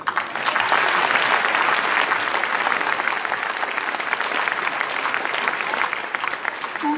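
Steady, dense applause from an audience at a New Year's wishes evening speech, sustained at an even level for several seconds with no voices over it.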